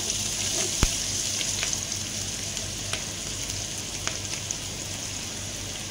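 Onions frying in olive oil in a pot for majboos chicken biryani, making a steady close crackling sizzle with a sharp knock near the start and a few small pops.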